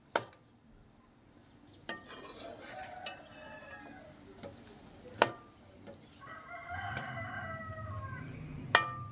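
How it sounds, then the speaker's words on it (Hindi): Carrots being stirred into sugar syrup for carrot murabba in a Pakistani village kitchen, giving soft wet scraping and sloshing with a few sharp clinks of a utensil against the pot, close and moderately loud, with no talking. "इसको इसके चाश के अंदर सारी गाजरों को मिक्स कर लेना है।"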